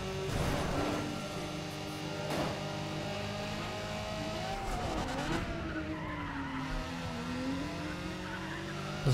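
Racing cars overtaking on a technical track in the video game Need for Speed ProStreet, with engines droning and shifting pitch as tires squeal and skid through a long corner, loud and continuous.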